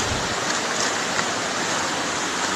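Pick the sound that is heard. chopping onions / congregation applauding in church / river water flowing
river water flowing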